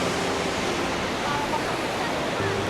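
Gira waterfall in Dang district, Gujarat, falls from several points at once, giving a loud, steady, broadband roar of cascading water close by that continues without a break.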